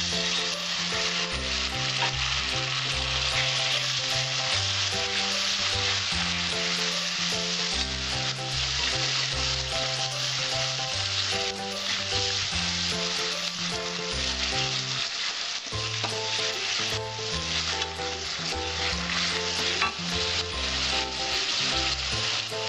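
Onion paste fries in hot oil with a dense, steady sizzle that runs the whole time, loud and close, while music plays underneath.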